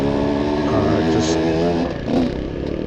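An Apollo RFN Ares Rally Pro full-size dirt bike runs on an MX track, its engine droning and rising in pitch as it revs, loud and steady with a brief dip near the end.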